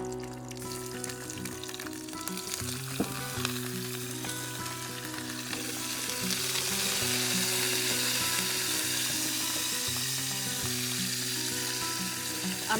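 Prawns and garlic sizzle and fry in a hot pan, a steady crackling hiss close up that grows fuller and louder midway, with occasional stirring clicks and no talking.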